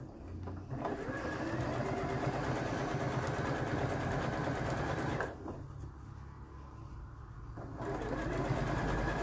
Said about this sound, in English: So overlockers are really quick making this.